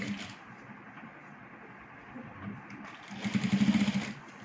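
A sewing machine runs a line of stitching along a fabric edge, a steady low mechanical hum that swells into a louder, rapid stitching burst near the end, with no talk.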